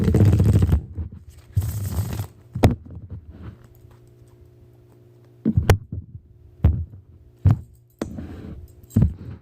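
Tarot cards are shuffled in rustling bursts, broken by sharp taps and soft thumps as the deck is squared, with a low hum underneath.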